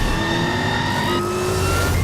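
The Batmobile race car's engine accelerates hard, a loud, sustained rising mechanical whine with strong harmonics, close and continuous for two seconds with no talking.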